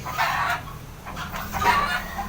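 Chickens cluck in short bursts nearby, a few separate calls over a quiet farmyard background.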